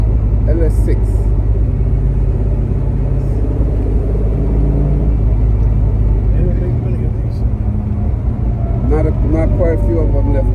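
A restored 1970 Chevrolet Chevelle SS with its LS6 V8 rumbles steadily from inside the cabin while driving, a deep continuous drone with slight shifts in pitch, and people talk over it.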